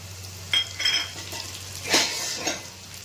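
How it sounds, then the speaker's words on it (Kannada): Sliced onions, two of them, dropped into a hot pan for Betageri-style chutney, giving a soft sizzle with a few brief scraping stirs of a spoon against the pan, close by and fairly quiet. "ಈಗ ಈರುಳ್ಳಿ ಹಾಕ್ಕೊಳ್ಳೋಣ"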